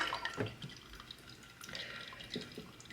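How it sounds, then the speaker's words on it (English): Drip coffee filtering through as hot water is poured during a slow college morning routine, giving soft, irregular drips and trickles, fairly quiet and close, with no talking. "now you can hear it's open and it's just dripping as it goes"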